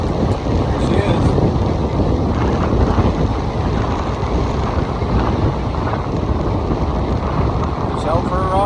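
Car interior at about 40 mph: constant loud roar of wind and road noise filling the whole stretch, steady and unbroken, with a faint high squeak near the end.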